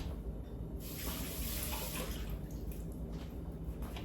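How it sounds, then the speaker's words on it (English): Dates rinsed under a running kitchen tap, a steady close rush of water splashing into a sink throughout, with no talking. "I'm gonna wash the dates."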